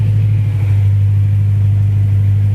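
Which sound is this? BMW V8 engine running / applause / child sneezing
BMW V8 engine running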